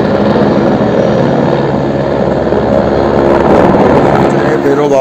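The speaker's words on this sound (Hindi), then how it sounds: "ये अभी जस्ट हेलीकॉप्टर आया, उसकी आवाज़ तो आप लोगों को आ रही होगी" A helicopter lifts off from a mountain helipad with a loud, steady rotor and engine roar filling the whole stretch close by, with no breaks.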